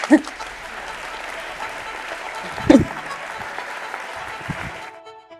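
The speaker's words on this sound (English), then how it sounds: "I'm going to ask for you to give him a massive applause" An audience at a marketing conference gives steady applause for about five seconds, fairly close, with a couple of louder claps and whoops before it stops abruptly.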